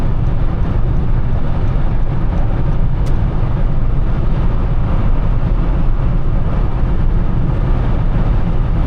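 Steady low road rumble and broadband noise from inside a Honda Accord EX-L with a 278 hp V6 cruising along, constant and fairly loud with no speech.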